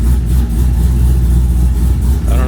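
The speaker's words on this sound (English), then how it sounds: "Even though the car is running good," A car engine runs loud and steady, a continuous low rumble filling the clip with no voices.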